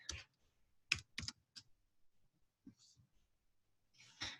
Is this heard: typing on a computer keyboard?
yes